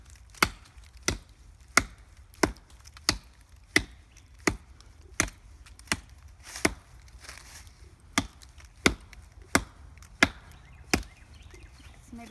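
An axe chopping wood with steady, evenly spaced blows, roughly one every half second for about a dozen strikes, crisp and close over a quiet outdoor background.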